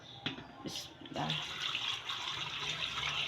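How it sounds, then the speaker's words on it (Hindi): Water from boiled carrot and radish is poured into a pickle, starting as a faint trickle and then running as a steady, continuous pour at close range. "अब इसमें हम पानी डाल देंगे जो रात को हमने पानी रखा था उसका, गाजर और मूली का।"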